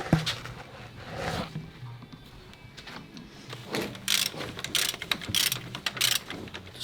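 A small screwdriver turns new bolts on a brake disc cover of a 2008 Land Rover Freelander 2, making close ratcheting clicks and metallic scrapes in irregular bursts.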